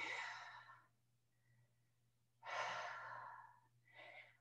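Slow, audible breaths during a yoga flow, a long exhale, a pause, then another long breath and a shorter one, close and soft over a faint steady hum.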